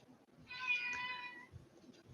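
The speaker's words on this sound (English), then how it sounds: "Oh, my cat wants to tell you hello." A pet cat gives a single clear drawn-out meow, close and fairly loud, lasting about a second amid quiet room sounds.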